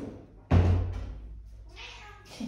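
A close cat meows loudly once, followed by a softer, drawn-out second meow and a brief third sound, with no talking.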